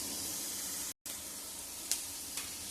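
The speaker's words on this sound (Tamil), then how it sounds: "இப்போ வெங்காயம் பொன்னிறமாக வதங்கட்டும்." Onions sautéing in a pan for masala dosa filling, giving a steady broadband sizzle throughout with a brief dropout near the start and a couple of sharp clicks from stirring.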